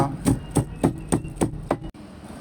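Peeled ginger is pounded in a mortar with a pestle: six steady, heavy thuds at an even rhythm, close and loud, then the pounding stops.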